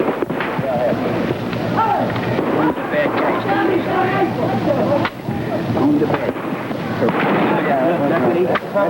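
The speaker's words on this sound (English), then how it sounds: "Shotgun going." Shotgun blasts fired during a street riot near Chicago's Cabrini high-rise housing project, a few sharp reports cutting through a noisy outdoor scene while a voice talks over them.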